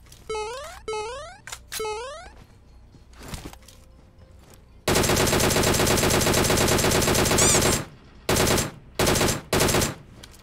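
Rapid bursts of automatic gunfire in the battle royale game PUBG Mobile, starting with a few short volleys, then a long sustained stream of shots, followed by several clipped bursts near the end, loud and close.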